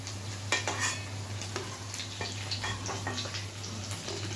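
Fried potato pakoras are lifted out of a pan of hot oil with a metal utensil, giving scattered scraping clinks and light taps over a faint sizzle and a steady low hum.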